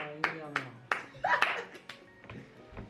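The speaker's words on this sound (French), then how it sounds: "Bon, allez, applaudissez." A family claps at a birthday, about eight sharp, separate hand claps at an uneven pace, close by and mixed in with ongoing talk.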